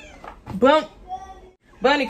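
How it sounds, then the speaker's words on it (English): A pet cat meows twice, clear and close, with short bright tonal cries, while a woman calls to it between the meows. "That's my cat."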